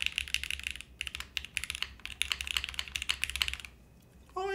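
Mechanical keyboard with slow springs and an FR4 plate, no foam, being typed on in rapid bursts of close, crisp clacks, with a short pause before a brief final tone.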